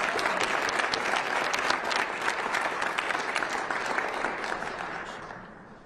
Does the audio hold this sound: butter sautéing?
no